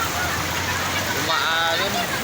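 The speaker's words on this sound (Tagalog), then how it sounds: "umaalon yung agos ng tubig oh" Fast-flowing river current with waves, a broad steady rush of water filling the clip, with a voice talking over it in the second half.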